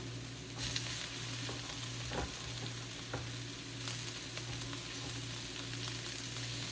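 Capsicum and browned onion stir-frying for street-style veg Hakka noodles, a continuous quiet sizzle with occasional stirring clicks and scrapes, no voices.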